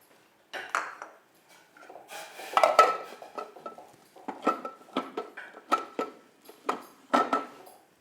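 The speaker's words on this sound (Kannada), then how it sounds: "ಈಗ ಇದನ್ನ ನೀರಲ್ಲಿ ಹಾಕಿ ಮಿಕ್ಸ್ ಮಾಡಬೇಕು ಓಕೆ ಆ ಕುದಿತಾ ಇರೋ ನೀರಲ್ಲಿ ನೀರಲ್ಲಿ ಮಿಕ್ಸ್ ಮಾಡಿ" Batter being stirred into a pot of boiling water in a home kitchen, heard as a run of sharp metallic clinks and scrapes of a spoon against the pot, irregular and close, with no talk.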